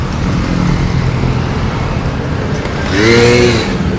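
Vehicles roll past on Marilaque road amid steady roadway noise, with one louder motorcycle sweeping close by near the end, its engine rising and fading.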